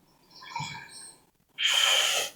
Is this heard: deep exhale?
yes